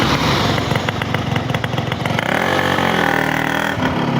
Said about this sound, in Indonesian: Nah, kalau itu suara mesin.